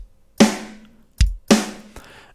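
Sparse acoustic drum hits from a free drum kit plugin in Cakewalk by BandLab: a kick-and-snare pair, a short low thump, then another pair, each ringing briefly with cymbal wash, no voices.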